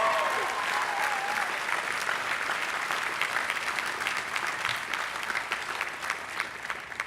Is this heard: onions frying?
no